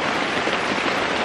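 Heavy rain pouring steadily on surfaces at a mountain homestead, a dense, even hiss of drops with no pauses, fairly loud and close.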